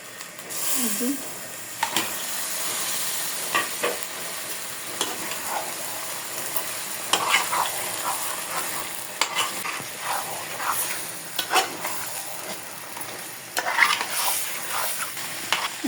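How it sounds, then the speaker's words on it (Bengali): Desi chicken pieces frying in a well-cooked spiced masala in a pan, with a steady sizzle and repeated scraping stirs of a utensil at an uneven pace. "আমার মশলাটা ভালোভাবে কষানো হয়ে গেছে আমি মাংসগুলো দিয়ে দেব"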